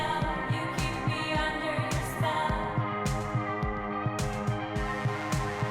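A quiet electronic song with a steady thumping beat, layered synth lines and occasional cymbal crashes, playing continuously without vocals.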